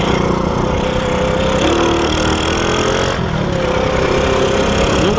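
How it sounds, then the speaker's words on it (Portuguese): A car engine runs while low on fuel, a loud, steady motor hum with gently rising pitch as it accelerates under continuous road and wind noise from inside the moving car. "Não tô acelerando muito rápido, porque tá na reserva."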